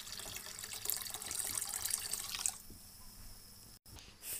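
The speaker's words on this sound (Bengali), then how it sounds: "আর এর মধ্যে আমি একটু পানিও দিয়ে দেব" Water pours steadily into a cooking pot for about two and a half seconds as the rushing stream fills it, then stops, leaving quieter kitchen background with a brief clunk near the end.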